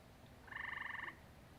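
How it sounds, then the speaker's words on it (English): A single short, rapid pulsing croak from a frog at a pond at night, clear against a quiet background hum. "You can hear the frogs."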